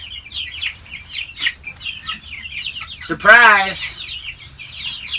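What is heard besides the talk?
chicks clucking in brooder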